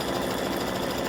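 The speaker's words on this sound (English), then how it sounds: "it's just about finished with the satin stitch" An embroidery machine sews a satin stitch on a gnome applique, a rapid steady mechanical needle chatter, close and continuous for a brief moment with no voices.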